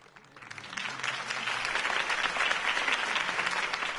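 Crowd applause after a campaign speech swells from quiet to a sustained, fairly loud wash of many hands clapping, with no voices on top.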